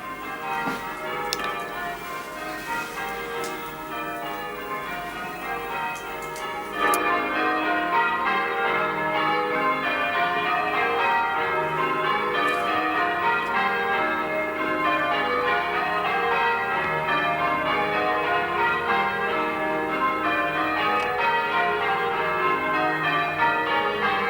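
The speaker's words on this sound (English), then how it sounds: "And we'll listen to the bells." Church bells peal continuously in a dense, overlapping wash of ringing, steady and fairly loud throughout, growing fuller partway through with no voices over them.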